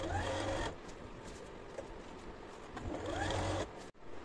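A sewing machine top-stitching a princess-cut blouse runs in two brief, loud bursts of rapid stitching, separated by a quieter pause of handling the fabric.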